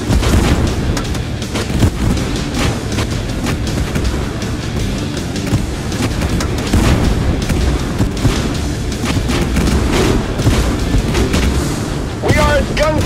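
Tank cannon fire and explosions in the video game Tank Force, with repeated booming blasts and rumbling battle noise layered continuously and loud, and chaotic crashes overlapping throughout.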